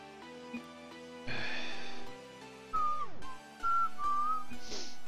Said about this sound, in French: Ah, y a que moi qui siffle